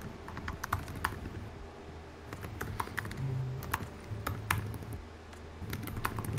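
Keys clatter on a computer keyboard during a livestream, an uneven run of quick clicks in short bursts with pauses, close and fairly quiet, with a soft background hum.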